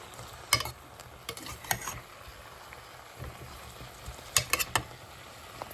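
Chana dal and bottle gourd being stirred in a pot with coriander and garam masala, sparse spoon clicks and scrapes against the pot over a low simmering sizzle, close and quiet, no voices.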